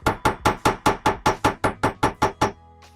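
Twelve sharp metallic hammer strikes on small metal earring jewelry land in a steady, even rhythm at close range, then stop, leaving a faint ringing hum.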